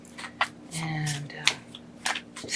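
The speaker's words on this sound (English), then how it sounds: "So I try to shuffle without looking and then just find out where I'm supposed to" A tarot card deck is shuffled by hand in rustling, flapping bursts with a few sharp riffling clicks, close by, while a person talks over it.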